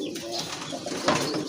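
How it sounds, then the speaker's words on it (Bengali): Pigeons at a market stall coo softly in a short burst, low throaty notes against a murmur of background noise. "আরেক জোড়া কবুতর, এটা কিন্তু আপনার গোল্লা কবুতর, অনেক বড় সাইজের কবুতর"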